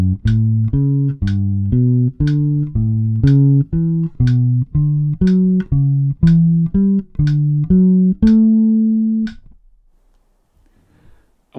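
Bass guitar plays a steady run of evenly spaced eighth notes against a click, each note plucked with a sharp attack, clear and close, ending with a sustained final note that fades to silence.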